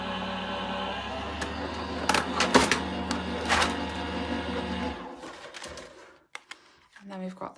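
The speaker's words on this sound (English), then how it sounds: "run that through the Gemini machine. And just wait for that to come out the other side." Gemini die-cutting and embossing machine pressing a card piece through with a plastic shim, a steady motorized whir with clicks and clunks that stops near the end, with someone talking over it.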